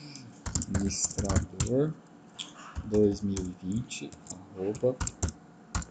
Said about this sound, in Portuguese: Eu digitei essa senha errada.